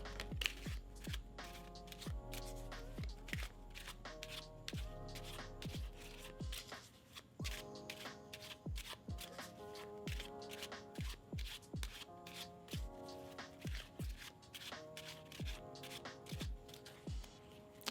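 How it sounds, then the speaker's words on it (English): Playing cards shuffled again and again at close range, a steady run of crisp riffling bursts and soft slaps repeating in an even rhythm, with no talking. "Just listen to the sounds of shuffling."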